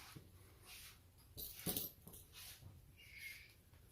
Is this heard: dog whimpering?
yes